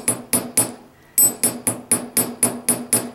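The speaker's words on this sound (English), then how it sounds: "you are hearing it hit the bench block" Sharp metallic chasing-hammer strikes on metal resting on a bench block ring out in a steady rhythm, about a dozen blows with one brief pause, close and bright.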